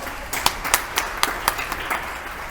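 Church congregation clapping to acclaim the Lord during a teaching on the sacraments, a scattered run of sharp hand claps at an uneven pace, moderately close over a faint room murmur.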